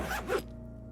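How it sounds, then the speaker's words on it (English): An orange jacket zipper is pulled down in the Disco Elysium video game, with one quick, close rasping zip lasting under half a second, followed by a low steady hum. "the lieutenant pulls down the zipper of his orange jacket"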